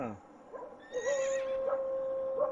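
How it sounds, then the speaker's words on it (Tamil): A horse whinnies loudly nearby, a long wavering neigh that trails off, with a short snort or call just before it. "குதிரை சவுண்டு கேட்க பாருங்க."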